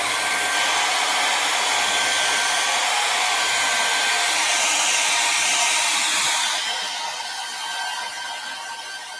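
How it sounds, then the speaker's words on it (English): A hair dryer drying masking fluid blows steadily at close range, a loud continuous whooshing hiss that eases slightly lower near the end. "I'm going to grab my hairdryer and dry it off"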